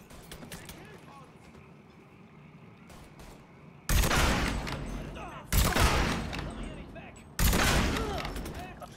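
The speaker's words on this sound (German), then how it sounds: "drei Schüsse" Gunshots ring out in Mafia III gameplay, three loud booming bursts spaced a couple of seconds apart, each followed by a rolling echo, over quieter game ambience.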